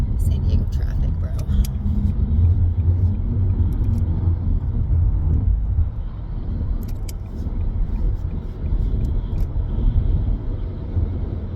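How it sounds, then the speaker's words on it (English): Loud San Diego freeway traffic heard from inside a moving car, a constant rumbling engine and road roar under a person talking, with occasional light rattles. "on the freeway, and not only is it very loud"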